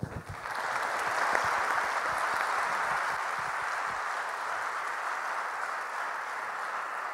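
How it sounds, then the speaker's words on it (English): A conference audience applauds its panelists, a sustained, even wash of clapping from many hands that starts abruptly and holds steady for several seconds without voices. "Could I ask you to join me in giving our panelists and also the organizers of this session a round of"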